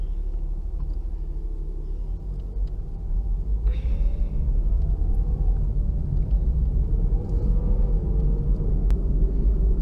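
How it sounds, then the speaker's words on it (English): A 2017 Toyota RAV4 LE AWD drives on the road, its engine and road noise making a steady low rumble that rises slightly as it accelerates, with no one talking. "Let's get this 2017 Toyota Rav4 on the road"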